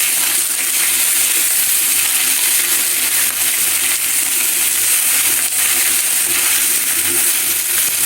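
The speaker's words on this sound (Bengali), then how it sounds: "মাছটা লাল লাল করে ভাজা লাগে, না হলে ভেঙে যায়।" Chewa fish frying in a pan, a dense, loud, continuous sizzling hiss that holds steadily throughout without voices.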